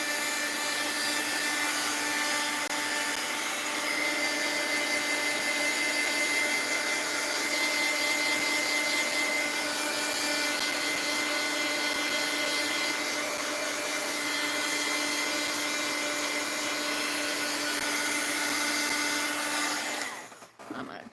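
A heat gun blows steadily on a mixed-media art journal page, a loud, unbroken whooshing roar that runs for about twenty seconds before cutting off at the end.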